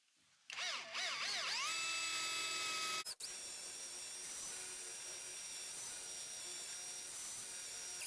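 A drill boring a hole with a 9mm bit while a workshop vice is installed: a high whine ramps up and down in short bursts, then settles into one long, steady run after a brief pause.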